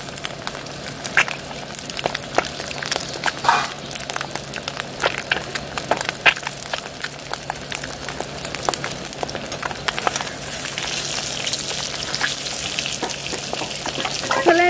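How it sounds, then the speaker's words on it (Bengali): Eggs fry in hot oil in a home kitchen, a steady close sizzle with frequent sharp pops and crackles bursting throughout, no talking. "ডিম পটাপট বাস্ট হচ্ছে"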